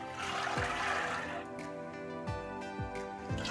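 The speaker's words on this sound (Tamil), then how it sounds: "2 கிளாஸ் தண்ணி ஊற்றிக்கலாம்" Water poured from a glass into a pressure cooker holding soaked black chickpeas, a continuous splashing pour close by, followed by quieter trickles and a few soft knocks.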